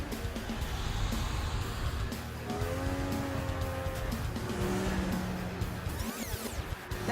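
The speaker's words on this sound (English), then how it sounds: "That's a moving car." A car moves past with a steady engine drone, rising revs and a brief squeal of tires, heard at moderate distance over background noise and without any voices.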